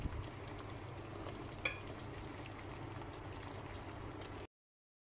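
Spice paste for prawn curry frying and being stirred in a pan, a steady low sizzle with soft scraping, one brief sharper clink near the middle, then sudden silence at the end.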